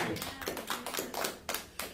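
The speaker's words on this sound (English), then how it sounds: "Let's give it a clap offering" A church congregation claps in a quick, uneven run of sharp hand claps, about a dozen over two seconds, with no voices over it.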